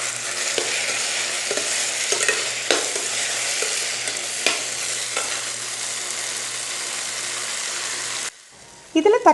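Onions and tomatoes with green chilli and coriander leaves sizzle in a pan over a medium flame for a Tamil egg curry, with a steady frying hiss broken by scraping stir strokes before the sound drops abruptly near the end.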